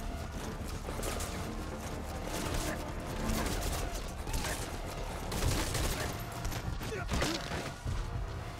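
Heavy gunfire and RPG shots in Metal Gear Solid V: Ground Zeroes, a dense, continuous barrage of loud cracks and blasts with sharper bursts standing out from the sustained noise.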